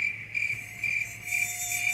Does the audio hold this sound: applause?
no